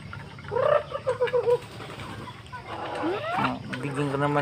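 Backyard chickens cluck and cackle nearby, a short run of clucks then softer calls, with someone speaking over them.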